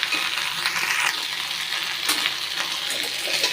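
Vallarai leaf chutney ingredients fry in a pan, sizzling loud and steady with a damp crackle, flaring in brief louder bursts from stirring, with no voices.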